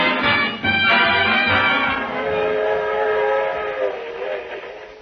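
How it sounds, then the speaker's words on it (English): A train at a suburban railroad station sounds a loud, sustained whistle over the rumble of the cars, and the tone fades gradually as it goes on. "A suburban railroad station."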